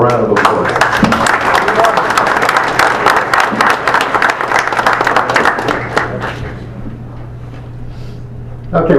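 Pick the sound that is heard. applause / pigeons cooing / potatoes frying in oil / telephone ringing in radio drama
applause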